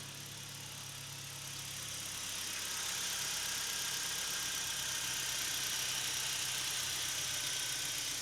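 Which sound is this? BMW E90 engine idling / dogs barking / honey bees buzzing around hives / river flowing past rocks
BMW E90 engine idling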